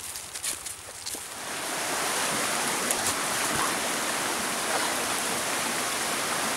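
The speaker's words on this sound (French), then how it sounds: "Je viens de trouver un cours d'eau." A small woodland stream flows in a steady, continuous rush of water close by, building up and filling the sound after a quieter opening second, with no voices.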